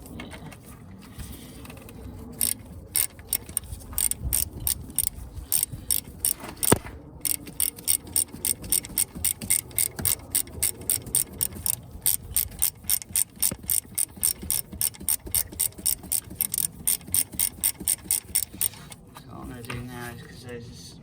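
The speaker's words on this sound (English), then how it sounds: "going up reasonably with the ratchet" A ratchet working on the slave cylinder of a 1996 Toyota Corolla gives a long run of rapid, evenly spaced clicks, close and crisp. Someone speaks briefly at the start and end.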